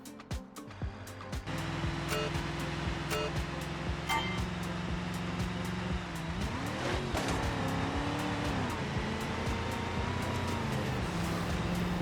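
Police car in the BeamNG driving game accelerating toward a jump ramp, engine note steady and loud then rising and bending in pitch around the midpoint, with tire noise and no talk.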